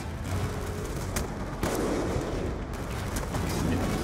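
Gunfire during a Call of Duty: Black Ops II campaign firefight, dense rattling shots and reports layered over constant battle noise, with a sharper burst near the middle.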